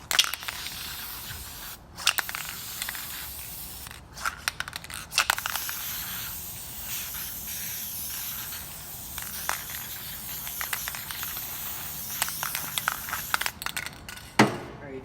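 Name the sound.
spraying the inside of a dirt bike part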